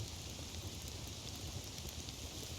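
Rain falls in the Rust video game as a steady, moderate, even hiss of drops on surfaces, continuous throughout with no voices.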